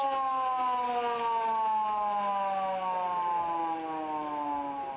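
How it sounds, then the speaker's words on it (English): A football ground siren sounds three-quarter time at a WAFL Colts match between South Fremantle and East Perth, a loud sustained wail with falling harmonic tones that holds steady for the whole stretch, with no voices over it. "there is the siren to signal three-quarter time"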